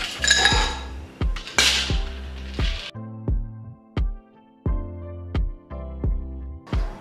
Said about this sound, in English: Now we're gonna add some ice.